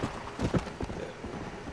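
Horse hooves clop in the video game Red Dead Redemption: Undead Nightmare, a quiet run of uneven steps under faint background sound.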